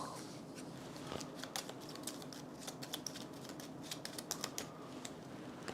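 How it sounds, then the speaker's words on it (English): Decks of playing cards shuffled together during a tabletop game, rapid crisp riffling and clicking bursts repeating in quick sequence, close and quiet. "We're shuffling these decks together"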